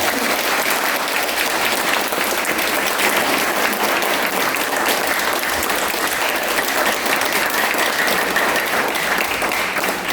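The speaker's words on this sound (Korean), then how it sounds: "대기자님께 박수 한번 부탁드립니다." Sustained, loud applause from a lecture audience thanking a journalist after a talk on Park Chung-hee's revolution, dense even clapping filling the whole stretch without letup.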